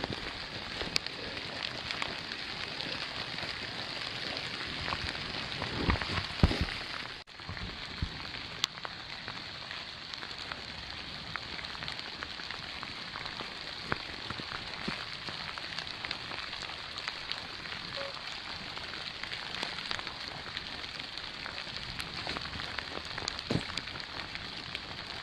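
Rain falls steadily on a forest hiking trail in the Smoky Mountains, a continuous soft hiss with scattered nearer drops and a brief rustle of movement early on, no voices.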